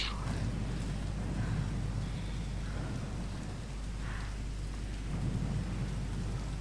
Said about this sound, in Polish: O nie, burza idzie.